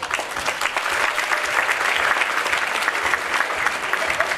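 A crowd at a women's achievement awards event applauds an award recipient, steady dense clapping from many hands, loud and continuous throughout.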